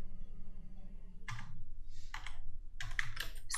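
Typing on a computer keyboard: a few quick bursts of key clicks separated by short pauses, close and fairly soft over a low background hum.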